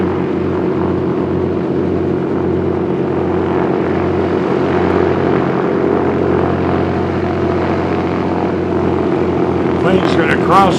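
A small propeller plane revs and begins its takeoff run at a small airport, its engine droning loud and steady with a strong low hum and harmonic whine, drawing slightly closer before a brief burst of other noise near the end.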